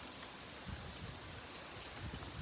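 Light rain falling outdoors on Hawaii's Big Island, a soft, even patter with no voices.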